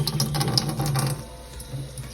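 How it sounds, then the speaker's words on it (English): Fabric soaking in room-temperature water in a sink for turmeric dyeing, with running water splashing and gurgling up close, then easing off. "you're gonna soak fabric in room temperature water so it is thoroughly wet"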